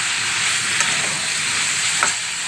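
Bitter gourd tamarind curry simmers in a pan, giving a steady, close sizzling and bubbling hiss that runs unbroken throughout.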